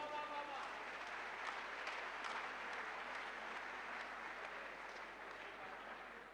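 Audience clapping for poet Rajesh Agrawal at an all-India kavi sammelan (poetry gathering), a sustained, fairly faint spread of applause from a seated crowd that gradually tapers over about six seconds.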